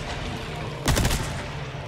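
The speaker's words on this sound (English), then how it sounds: "now we're gonna do a little bit of SMG" A short, loud burst of SMG gunfire in the Resident Evil 4 Remake shooter, a rapid volley of about a third of a second standing out from a steady game background.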